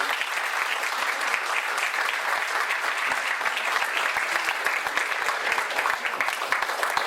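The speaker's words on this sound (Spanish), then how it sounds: "otro aplauso para Martín" Sustained, dense applause from a conference audience at a philosophy talk, clapping steadily and evenly for a speaker for the whole stretch with no voices over it.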